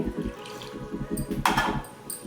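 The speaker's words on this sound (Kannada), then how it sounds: "ಒಂದು ಲೋಟದಷ್ಟು ನೀರು ಹಾಕೋತಾ ಇದ್ದೀನಿ" About a glassful of water is poured into ragi dosa batter, a close, gurgling splash with soft rhythmic sloshing and a brief brighter pour near the end, with no voices.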